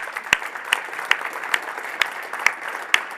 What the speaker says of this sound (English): I also want to give a big applause to the technical team